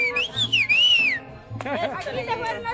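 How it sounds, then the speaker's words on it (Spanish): People at a lively dance gathering whistling loudly, with long sliding and wavering tones up close, one after another, while voices and chatter carry underneath. "te fueron los silbidos con mucho amor"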